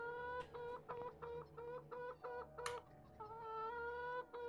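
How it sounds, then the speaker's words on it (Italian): Chickens cluck repeatedly in the horror game Hand Simulator Horror, a run of short rhythmic clucks over a steady low game hum, moderately close with no speech. "Ho sentito delle galline."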